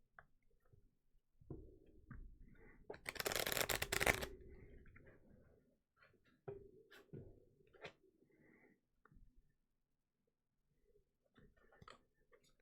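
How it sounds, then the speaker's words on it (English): Tarot cards are shuffled by hand in a quiet room: one loud, dense riffle-shuffle burst, then softer scattered card slides and taps with pauses between them. "And let me shuffle a little bit more."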